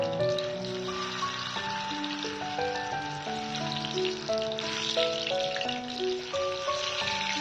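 Egg-shaped chhana (cottage cheese) balls fry one by one in a pan for a vegetarian dalna, giving a steady soft sizzle of oil under tuneful background music.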